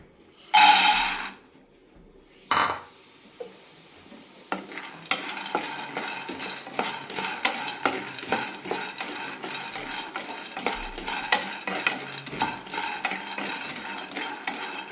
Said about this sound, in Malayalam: ഒരു കപ്പ് കടലയാണ് എടുത്തിരിക്കുന്നത് ഇത് നന്നായി വറുത്തെടുക്കാം